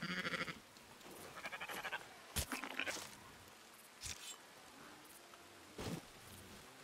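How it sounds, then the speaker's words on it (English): Sheep bleating in Red Dead Redemption roleplay: several short, wavering bleats, one at the start and others later, separated by quiet gaps and sharp crunchy transients. "Come here, sheep."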